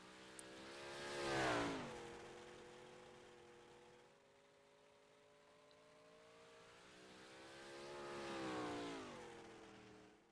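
An STRR 358 modified race car at Lanier Speedway howls past with a rising then falling engine note, fades, then returns for a second loud rev-up and pass, with no voices.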